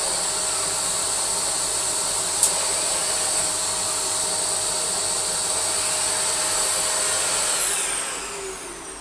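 Dyson DC46 Allergy Parquet vacuum cleaner running, a loud steady motor roar with a high whine and airy hiss, close and continuous, easing slightly near the end.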